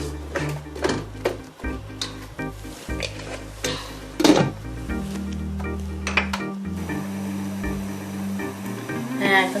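Pui saag stalks being sautéed and stirred in a pan with spices, utensils clinking and scraping against the pan over a low sizzle, with a steady musical backing underneath.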